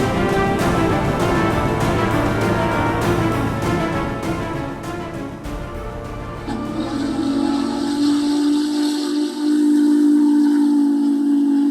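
A steam locomotive's whistle sounds loud and close, a sustained blast after a stretch of rhythmic chuffing, alone with no talk.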